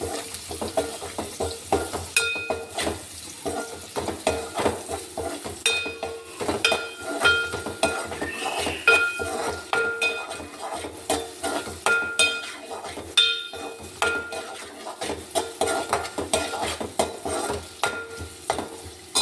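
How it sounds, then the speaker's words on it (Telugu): Onions fry in a pan for a stir-fried okra and dried prawn dish, with a close continuous sizzle and frequent rhythmic spoon scrapes and light clinks on the pan. "ఉల్లిపాయలు వేగాలి."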